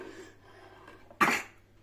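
A single sharp, loud sneeze from a small boy playing at home bursts out close by after a few seconds of quiet room sound.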